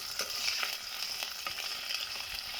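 One large onion frying in three tablespoons of hot oil in a vessel on the flame for chicken curry, giving a steady, fairly quiet hiss with faint stirring scrapes throughout.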